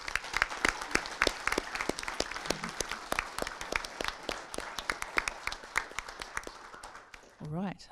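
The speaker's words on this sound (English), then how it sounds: "So just a big round of applause for everybody here." An audience applauds at the 2024 Misty Flicks awards ceremony, with crisp individual claps forming a lively, uneven patter that thins toward the end, where a voice briefly speaks.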